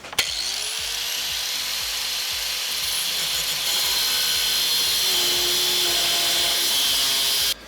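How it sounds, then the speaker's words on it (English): A power grinder smooths the burrs off cut metal tube ends while a wagon is turned into a bike trailer, spinning up and then grinding loudly and steadily up close before cutting off abruptly. "Now we're gonna just grind. We're just gonna kind of smooth off our ends right there."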